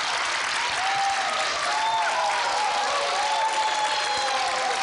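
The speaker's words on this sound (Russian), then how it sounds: "Аплодисменты." An audience claps continuously in a studio, dense even applause with a few light cheers and whistles mixed in.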